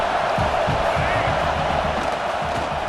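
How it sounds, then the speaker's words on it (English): Home crowd at a Colorado vs Clemson college football game roaring steadily in a stadium, a dense continuous wall of cheering with a few louder swells and a commentator talking over it. "how nice is it to have the home crowd going absolutely bananas?"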